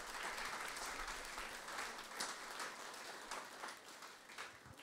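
A church congregation applauds together, a continuous wash of clapping hands that stays steady for several seconds and tapers slightly toward the end, with no voices over it.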